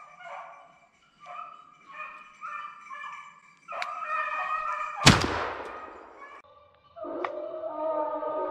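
Hunting dogs on a snowshoe hare hunt bay and howl in repeated drawn-out tonal cries, fairly close, with a sharp loud gunshot cracking in the middle before the baying resumes.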